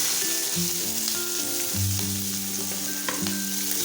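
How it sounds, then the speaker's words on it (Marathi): Cumin seeds, green chillies and onion fry in hot oil with a steady close sizzle, a continuous crackling hiss under tonal background music, no talk. "इथे आपली जिरी फुलल्यानंतर आपल्याला दोन हिरव्या मिरच्या घालून घ्यायच्या आहेत त्यानंतर कांदा"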